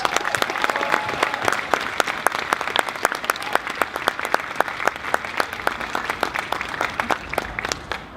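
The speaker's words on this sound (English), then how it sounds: "big round of applause again" A crowd gathered after a Grenfell community silent walk in London applauds steadily, dense scattered claps sustained for the whole stretch at moderate distance without pause.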